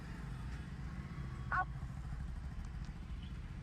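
A motorcycle engine rumbles low and steady nearby amid heavy city traffic, heard from inside a car, with a brief clatter partway through.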